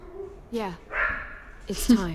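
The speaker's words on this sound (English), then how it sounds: "Sorry for the dog barking." A dog barks and yips twice in a game scene, short bursts separated by a pause, with a person talking between and under the barks.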